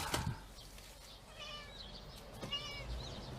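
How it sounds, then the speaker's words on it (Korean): A cat meows a few times nearby, soft and drawn out, with a light thump at the start in an otherwise quiet room. "야옹이가 있는데 아직 이름을 짓지 않았습니다"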